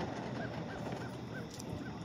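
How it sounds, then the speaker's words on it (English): Faint ducks calling in the distance at a lake in North Carolina, a short series of evenly spaced honking quacks over steady outdoor background noise. "Oh, there's some ducks."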